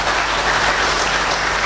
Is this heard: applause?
yes